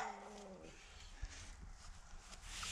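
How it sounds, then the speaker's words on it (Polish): Dogs on a partly abandoned farm bark in short bursts, with a couple of faint, fairly distant yips over low background noise and a few light thumps. "Widać, że pieski szczekają, ale chyba nie są groźne."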